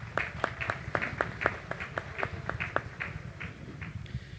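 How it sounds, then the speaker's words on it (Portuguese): Audience applause at a church leadership conference session, with sharp, fairly evenly spaced claps at moderate distance over a low murmur. "Vamos aplaudir eles."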